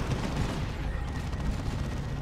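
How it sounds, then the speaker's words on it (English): Heavy weapons fire from a fire prism, las cannons and a D-cannon in the strategy game Dawn of War 2, a dense continuous roar of blasts and explosions with crackling bursts layered throughout. "Fire prism and those las cannon making short work of the second Carnifex. D-cannon now blasting away as well"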